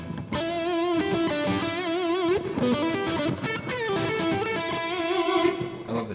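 Electric guitar through a Legacy amp's overdrive channel with an EP booster and plate reverb, playing a distorted melodic lead with sustained bending notes and lush reverb tails, loud and close with no voices.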